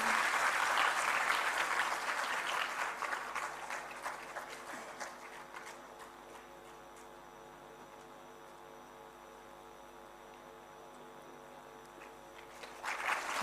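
Applause from an audience at a student honors ceremony, loud and dense at first, fading away over several seconds into a quiet room hum, with a fresh burst of clapping starting right at the end.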